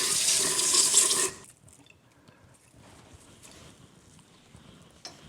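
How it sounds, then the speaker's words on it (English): Tap water runs hard into a sink while goldenrod herbs are rinsed, a loud hissing splash for just over a second before the flow cuts off, followed by quiet with faint handling clinks and a small knock. "You're going to rinse it off gently."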